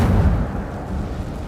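A fire spell cast in Hogwarts Legacy, a loud low rumbling whoosh of flame that fills the short moment and slowly eases off, with no voices.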